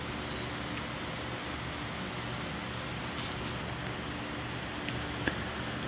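Irrigation sprinklers mimicking rain spray water steadily over trays of a fodder growing system, a constant even hiss throughout with a couple of faint clicks near the end.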